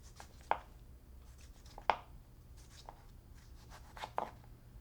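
A knife cuts through mango flesh on a board, scoring it into cubes: a few soft, separate cuts and taps spaced unevenly, quiet and close, with faint rustling between them.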